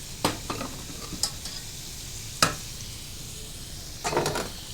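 Boiled potatoes tipped back into a hot pan in a home kitchen, heard as sparse clinks and scrapes with a soft, low sizzle between them. No voices.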